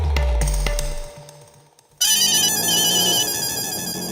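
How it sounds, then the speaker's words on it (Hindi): A telephone ringtone in a Hindi family sitcom, Taarak Mehta Ka Ooltah Chashmah, cuts in abruptly partway through after a quieter stretch, then plays as a loud, steady electronic ring of repeating bright tones. "मेहता साहब को भी फोन करके ये खुशखबरी दे देता हूँ।"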